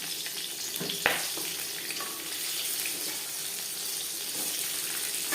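Cumin seeds and slit green chillies frying in about three spoonfuls of hot refined oil, a steady close hiss of sizzling throughout with a single sharp crackle early on.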